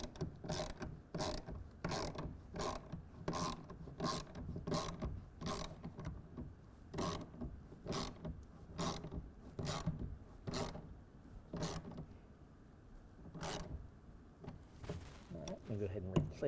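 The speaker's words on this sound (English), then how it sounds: "we're going to go ahead and tighten that down with a 1/2 inch socket and ratchet to 10" A 1/2 inch socket and ratchet tightens a side clamp to 10 foot-pounds while installing a RealTruck UnderCover Armor Flex hard folding tonneau cover, giving a steady run of sharp, evenly spaced ratcheting clicks close by.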